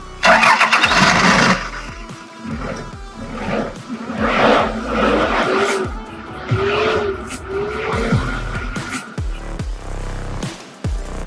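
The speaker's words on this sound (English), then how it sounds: "Now just listen to this car roar to life." Diesel engine of a modified off-road 1999 Toyota Land Cruiser Prado with exposed metal and a hood scoop cranks and roars to life loudly up close, then settles into a rough, revving idle.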